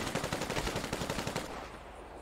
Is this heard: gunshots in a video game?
yes